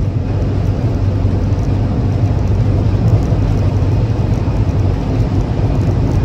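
VW Type 2 Westfalia camper van cruising at a steady 55 mph, a constant loud low rumble of engine and road noise from inside the cabin, without talk.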